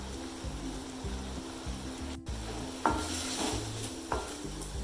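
A spoon stirs vallarai keerai kootu in a pan, scraping in a steady rhythm of repeated strokes over a soft sizzle, close by, with a few sharper clinks later on and no talk.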